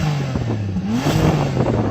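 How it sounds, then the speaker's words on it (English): A Bentley GT Speed's W12 engine revs in sports mode against a soft limiter, a close, steady low rumble that climbs briefly in pitch and then settles back, with no talking. "So I'm going to rev up this Bentley. I've got it in sports mode and I've given it some revs"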